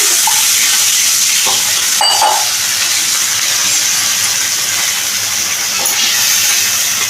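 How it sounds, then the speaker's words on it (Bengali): Masala frying in a pan for a Bengali-style ol kochu kofta gives off a steady loud sizzling hiss, with a brief sharper burst around two seconds as a little water goes in, then continues evenly. "মশলাটার মধ্যে আমি একটু সামান্য জল দিয়ে দিচ্ছি"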